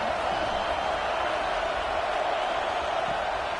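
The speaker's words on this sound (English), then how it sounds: "this crowd is turning it up a notch" A dense, steady stadium crowd roar in a college football video game, Missouri at Oklahoma, growing louder, loud and continuous with no breaks, a wall of cheering voices.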